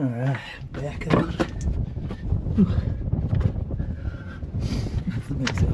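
Wind blowing through a cave near a small hole, a steady gusty rush buffeting the microphone, with scattered movement and a voice talking at the start.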